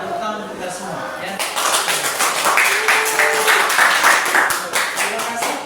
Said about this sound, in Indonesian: sekali lagi kita tepuk tangan kita semua ya